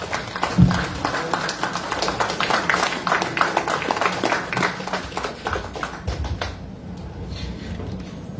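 Audience clapping at a school awards ceremony for top performing schools in Papua New Guinea, a steady patter of many hands for several seconds that then quickly dies away to quiet room tone.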